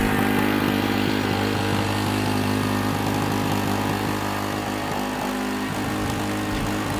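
A YTS3000 riding lawn mower, a restored barn-find, runs steadily at a loud, even engine drone with a buzzing hum and no talking.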